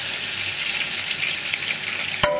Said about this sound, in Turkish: Unun biraz kokusu çıkana kadar kavuruyorum